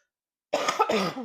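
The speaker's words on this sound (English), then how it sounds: "I'm so sorry I keep coughing at you guys." A single short, close cough with a throaty rasp, following a moment of silence.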